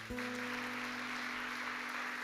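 A church congregation claps in a steady wash of applause while a sustained keyboard chord holds underneath, loud and continuous with no talk.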